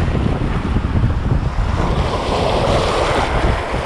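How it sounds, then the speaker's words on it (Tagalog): Large waves surge and break on open water near a bridge, a loud continuous roar of surf mixed with heavy wind buffeting the microphone. "Lalaki ng alon."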